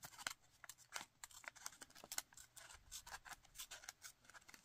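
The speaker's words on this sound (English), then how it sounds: "So grabbing my scissors and going to cut along" Scissors snipping through paper in a quick, uneven series of crisp cuts, close and fairly quiet, with no talking.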